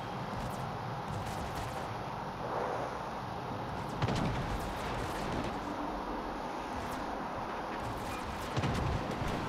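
Warship guns firing in World of Warships: Legends, with sharp booming salvos at a few scattered moments over a low, steady rumble of the sea battle, and no voices.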